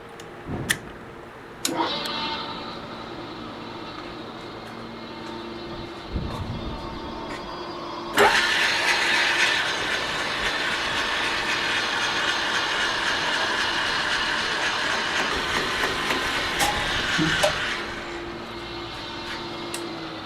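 An exhaust fan clearing smoke in a machining workshop where a milling machine is set up for boring kicks in partway, a loud steady whooshing roar that runs for several seconds over lower shop noise, with a few sharp knocks before it.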